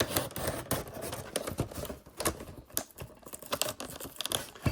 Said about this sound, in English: it's going to be easier to cut the plastic with an X-Acto knife